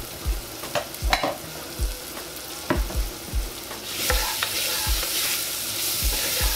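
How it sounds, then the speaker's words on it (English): Onions and minced garlic cook in a frying pan with a constant crackling sizzle, punctuated by regular soft thumps of a utensil stirring. The frying grows louder and brighter in the last few seconds. "We're gonna let our onions and our garlic cook a little bit more."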